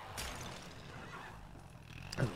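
In the Lego 2K Drive video game on a farm, a horse neighs in a short, quiet whinny with a faint clatter, followed by a louder burst at the end.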